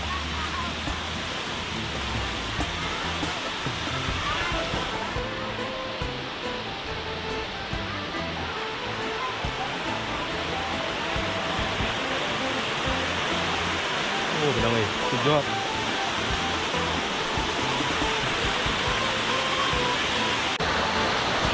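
Constant rushing water from a waterfall near Mae Kampong, Chiang Mai, Thailand, roars loudly and steadily close by, with no break in the noise from start to end.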